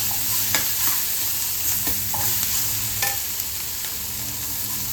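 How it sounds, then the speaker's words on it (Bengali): Dried fish and onion crackle and sizzle steadily in hot oil in a pan, with a few sharp scrapes of a spoon stirring through the mix. "পেঁয়াজ দিয়ে ভালো করে ভেজে নেবো।"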